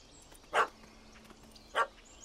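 Two short dog barks about a second apart in The Witcher 3 game, moderately loud over a quiet background hum with no talking.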